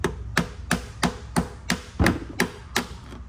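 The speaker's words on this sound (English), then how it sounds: "Hate beating on BMWs with hammers." Sharp hammer blows strike a screwdriver used as a chisel on a stuck bolt of the plastic transmission pan on a 2016 BMW X5 3.0 turbo with a ZF 8-speed, nine evenly spaced close metallic taps in a steady rhythm.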